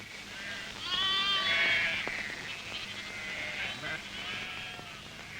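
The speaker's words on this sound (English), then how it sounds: "Tonight the sheep will be put in the park" Sheep bleat in a long wavering call, followed by softer overlapping bleats from a flock on a Scottish croft, close and clear over a faint outdoor hum.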